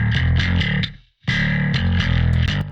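A distorted bass guitar played through an amp plugin with a cab impulse, heard as heavy chugging metalcore riffs that stop briefly, then resume loud and alone.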